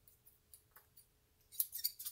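Scissors snip excess material off a model rocket kit part in a few quiet, close cuts, followed by a brief burst of crisp rustling.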